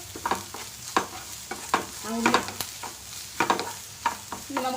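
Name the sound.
stirring onions frying in pan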